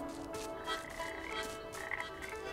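Frog croaking inside the video game Papo & Yo: a steady run of low, throaty croaks over a constant ambient game hum, fairly quiet and with no one talking.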